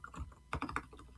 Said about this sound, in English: I hate typing live.